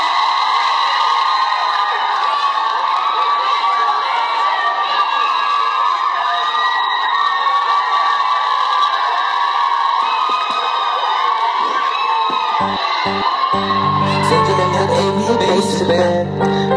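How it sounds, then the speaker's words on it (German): A large crowd cheers, applauding, and shouts steadily with bright, high-pitched voices throughout, growing busier near the end as scattered claps and whoops join in. "Applaus."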